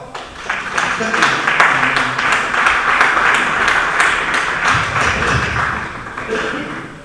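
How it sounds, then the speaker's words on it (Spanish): At the presentation of an Asturian film festival an audience breaks into loud, sustained applause, dense clapping that swells and then tapers, with some low thumps and murmuring near the end. "Un aplauso, por favor."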